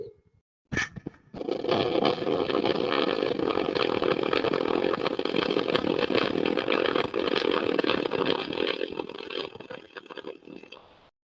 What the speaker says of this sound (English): And we'll make another weld, see what we look like.